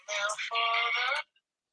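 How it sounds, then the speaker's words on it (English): A phone ringtone sounds for an incoming call, a bright electronic tone in two bursts with a short break between them, then it cuts off into silence. "again, incoming call"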